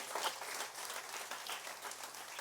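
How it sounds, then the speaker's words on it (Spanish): A church congregation applauds, a continuous, fairly faint and distant wash of many hands clapping, with no talk. "Aplaudamos para el Señor, para nuestros hermanos,"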